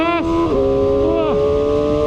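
A QJMotor SRK 450RR motorcycle fitted with a quickshifter revs loudly up close, its engine note dropping sharply at each of three quick clutchless gear changes before climbing again.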